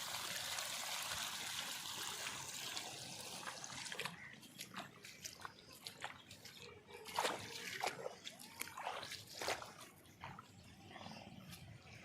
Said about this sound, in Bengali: জমি সব ডুবে গেছে, জল হু হু করে আসছে